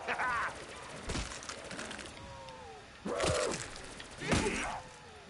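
Rifle gunfire in a video game, heard as several sharp shots and bursts spaced a second or so apart, mixed with whooshing effects and other game sounds.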